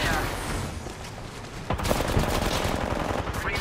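Rapid bursts of weapon fire in a game of Apex Legends, dense and continuous over a busy game soundscape, loud and close throughout.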